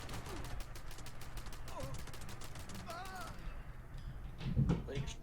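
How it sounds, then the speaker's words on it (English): Rapid gunfire in Fallout 76 rattles through most of the clip, with dense repeated shots under people talking, then thins out, and a heavier low thump sounds near the end. "Looks like someone's being shot at."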